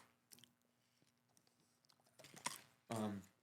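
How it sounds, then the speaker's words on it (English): Cinnamon gum chewed close to a microphone: soft wet chewing and crunchy bites scattered through, growing louder near the end with a thick burst of mouth noise. "So don't chew directly in the microphone."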